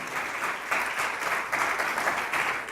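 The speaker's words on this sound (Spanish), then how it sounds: "denle un aplauso a Él, por favor" A church congregation applauds in a sustained, fairly loud swell of many hands clapping, pulsing slightly in waves throughout without any clear speech on top.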